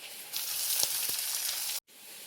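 Onions for chicken masala sauté in a pan with a bright, close sizzle that starts suddenly, runs with a few soft stirring knocks, then cuts off briefly before resuming more quietly.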